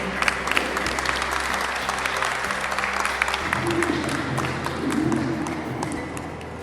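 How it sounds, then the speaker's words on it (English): A crowd at a senior center breaks into sustained applause at a Social Security gathering, dense clapping that carries steadily throughout with a low hum and some background murmur beneath. "Let's give Suleika a round of applause."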